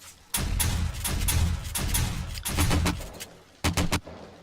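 Rapid bursts of gunfire from zombie-shooting in the survival game 7 Days to Die, Alpha 16.4 horde night, loud and close, with repeated shots in quick irregular volleys and a brief pause before a final cluster.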